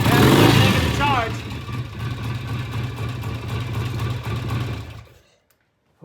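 A BSA motorcycle engine runs and revs in a workshop, a loud close throb that rises briefly at the start, then holds a steady idle before cutting off near the end.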